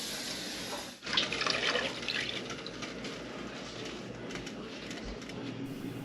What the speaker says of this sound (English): we are going to add a little bit more water